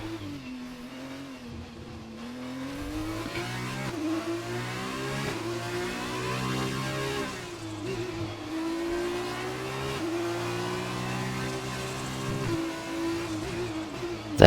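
An F2 race car on fresh super soft tyres exits the pits at Monaco in a racing video game, its engine droning and climbing through repeated revving gear changes, loud and steady from start to finish.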